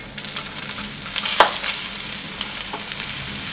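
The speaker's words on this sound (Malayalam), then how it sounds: "ഇനി നമുക്ക് സവോള ഇട്ട് കൊടുക്കാം" Onion frying with whole spices in butter for veg fried rice, a close, continuous hissing sizzle with a sharp scrape of stirring partway through and lighter clicks after, no voices.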